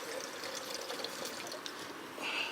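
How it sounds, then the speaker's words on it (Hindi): Water poured into a kettle at a campsite, a steady trickling pour with a brighter, fuller splash near the end, fairly quiet and with no voices. "ये हमारी केटल है और इसमें हम अब थोड़ा पानी भर"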